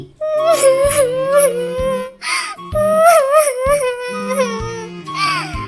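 A cartoon sparrow cries in a high, wailing voiced sob, with several rising and falling moans broken by short pauses, loud and close, performed by a human voice imitating the bird's crying.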